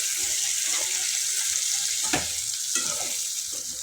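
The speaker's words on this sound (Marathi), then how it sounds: "वांगी चांगली तेलात परतून गेली" A steady, close sizzle of eggplant frying in hot oil, with a few soft scraping stirs breaking through.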